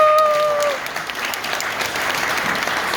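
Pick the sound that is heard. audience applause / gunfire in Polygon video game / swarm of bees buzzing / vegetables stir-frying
audience applause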